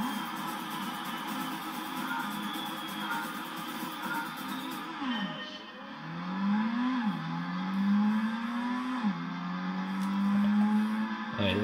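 Race cars in Gran Turismo at Trial Mountain, a steady engine drone that rises and falls through repeated gear-shift revs, with a sustained motor whine heard alone at moderate level.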